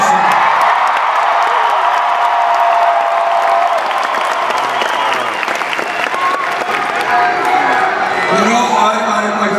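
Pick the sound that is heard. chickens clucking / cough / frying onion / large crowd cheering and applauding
large crowd cheering and applauding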